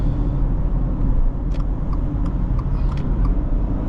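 A 2021 Subaru Outback 2.5i with a CVT accelerating gently on a road, heard from inside as a steady low engine and road rumble with a few faint clicks and rattles, no talking.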